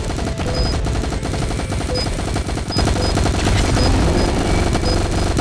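Automated ARP machine guns in a Jurassic-themed research facility video game fire continuous rapid bursts, dense and loud throughout, with rattling blasts that intensify in the second half.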